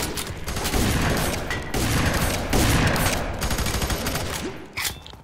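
Rapid, dense gunfire, shotgun blasts from the first-person shooter game FEAR 3, crackling almost continuously and loud for about five seconds before a brief lull and a final shot.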